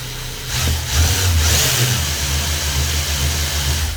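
A car engine revs up as the vehicle speeds up on the road, a loud, close, low rumble climbing and holding steady, with no talking.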